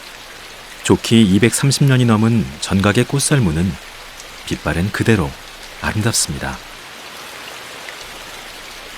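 Rain falling steadily on the old wooden temple hall of Magoksa, a soft, continuous patter heard under a voiceover throughout.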